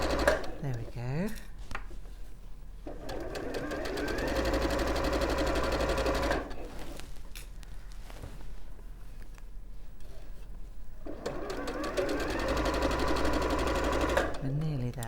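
A sewing machine sews across a strap, running in two sustained bursts of several seconds each, separated by a pause filled with handling noise and talking.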